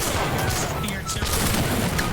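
Dense gunfire and booming explosions fill a Holdfast battle, a loud continuous barrage with musket volleys and heavy blasts like artillery fire, with shouting voices mixed in.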